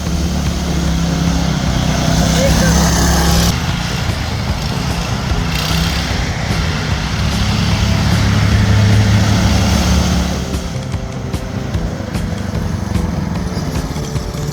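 A go kart powered by a 212 PowerPack engine drives continuously with a loud, steady engine drone that rises and dips slightly as it turns around trees, heard close throughout.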